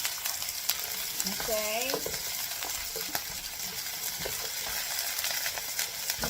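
Garlic and onion sizzle softly and steadily in a pan while being stirred now and then, with a brief voice passing over the gentle frying.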